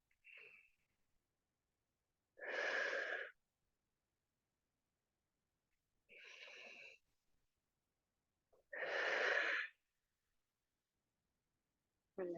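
Slow, deep breaths taken during a stretching exercise for tight hips, four separate breath sounds spaced a few seconds apart with silence between, close and fairly soft.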